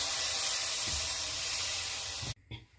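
Orange syrup is poured slowly into hot semolina halva, giving a loud, continuous sizzling hiss with faint bubbling. The hiss cuts off abruptly near the end, then flares briefly once more.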